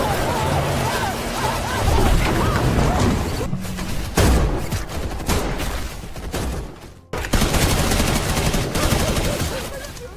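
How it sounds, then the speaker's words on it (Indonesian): Rapid bursts of gunfire rattle through a chaotic shootout in a Korean action film, loud and dense, with brief lulls and crashes between volleys. "lalu terjadilah baku tembak."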